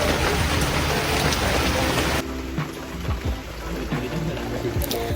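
Heavy rain pours down steadily in El Nido, Palawan, loud and dense, then eases slightly to a constant patter on surfaces.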